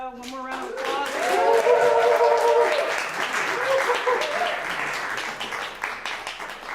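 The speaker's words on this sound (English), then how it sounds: "One more round of applause." A comedy club audience breaks into a swell of applause and clapping that rises quickly and holds for several seconds, mixed with a few cheers after a stand-up set.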